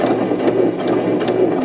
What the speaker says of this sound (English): Coming up the side, you will back stitch to finish.